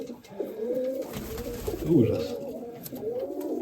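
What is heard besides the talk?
pigeons cooing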